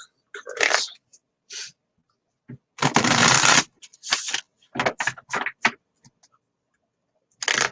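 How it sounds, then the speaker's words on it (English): Tarot cards are shuffled in short bursts of crisp riffling and flicking, with one longer, louder riffle in the middle and brief pauses between the bursts, heard close up with no talk. "All right, let me pull a couple of Maria cards."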